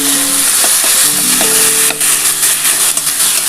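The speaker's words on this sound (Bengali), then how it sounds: "এবার এর মধ্যে আমি পেঁয়াজ আদা রসুনের পেস্টটা যেটা করে রেখেছি সেটা আমি 2 চামচের মতো দিয়ে দিচ্ছি" Onion, ginger and garlic paste sizzles and fries hard in a hot pan for a chicken curry, a loud steady crackle broken by a few scraping stirs and clinks, with no voices.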